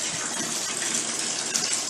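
Water gushing steadily from a bathtub faucet in a master bathroom with reversed hot and cold valves, a continuous broad hiss filling the space without pause or talk.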